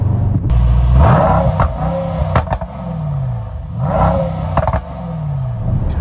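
A Mercedes-AMG E63s Wagon V8 roars through repeated hard accelerations, close and loud, with rising revs, gear-change dips and crackles between pulls.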